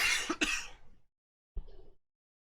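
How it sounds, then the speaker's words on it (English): A harsh throat-clearing cough from a minor cold, up close, followed after a brief silence by a second, softer cough. "Sorry, I just got a minor cold, or minor coughing."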